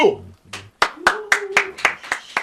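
A single person claps about nine times at a steady pace, close and sharp, with a voice talking over the claps.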